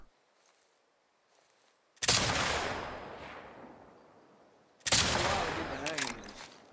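Two loud bursts of video game gunfire, each a dense crackling volley that tails off over a couple of seconds, separated by a quiet stretch with faint background sounds.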